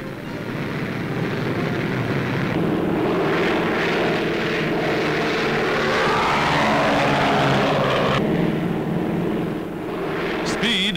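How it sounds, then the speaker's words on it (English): A de Havilland Mosquito twin-engine wooden bomber flies with a steady, loud propeller-engine drone from 1942 test flights, the roar swelling slightly as it passes. "the Mosquito is said to be the fastest bomber in the world"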